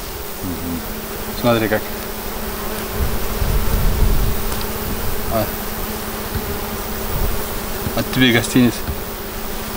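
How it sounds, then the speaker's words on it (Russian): Bees hum steadily around the hives at an apiary, a dense continuous buzz with louder swells as insects fly close, while someone speaks briefly over it a few times. "мед делают пчелы."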